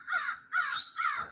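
A crow caws three times in a steady sequence, loud and close, each call harsh and slightly drawn out with short gaps between them.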